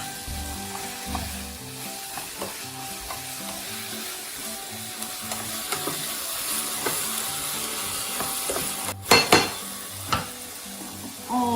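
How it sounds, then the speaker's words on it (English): Garlic sizzles steadily in a hot pan for a quick salmon dinner, a continuous crackling fry with scattered pops and a few louder clatters of stirring near the end, close and with no talk. "I'll add the garlic now at this point."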